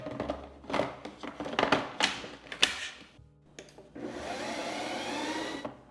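An ice cream maker runs on its mix-in setting, stirring chopped almonds into vegan coffee ice cream: irregular clattering, ticking knocks and whirring bursts, followed by a steadier mechanical churning hum near the end.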